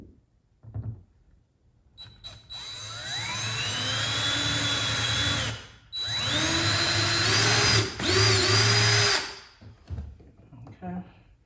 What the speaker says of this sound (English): pre-drill these holes for the screws.